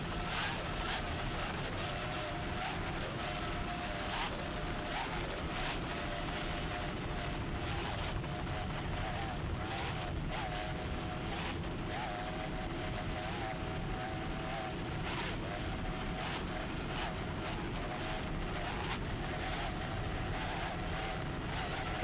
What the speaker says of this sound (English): Nice throttling there by Tim Steiner from Naples, Florida.